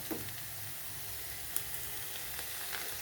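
Onions frying in a pan give a steady, soft sizzle that runs through the whole stretch, with a few faint stirring ticks and no voices.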